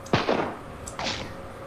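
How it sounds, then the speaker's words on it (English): Two sharp, distant bangs about a second apart, each trailing off in a brief echo over a quiet outdoor background. "I'm hearing gunshots"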